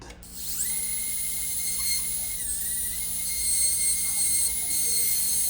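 Dental burr grinding down a tooth overbuild, a loud, steady high-pitched whine that starts after a short burst, dips briefly in pitch, then carries on close and unbroken with no talking.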